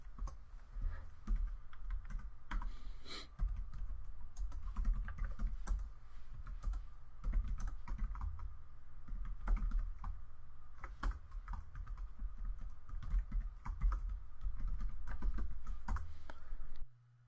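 Rapid, continuous typing on a computer keyboard while writing code, a dense run of close, crisp key clicks and thumps with short pauses, nearly all the way through.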